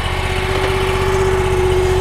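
A Toolcat 5600 utility machine idles steadily to warm up, a loud, constant low engine drone with a steady hum and no breaks in the sound.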